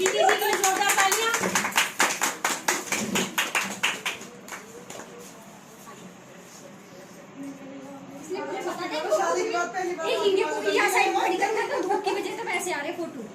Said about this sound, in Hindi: प्रीति जी के लिए जोरदार तालियां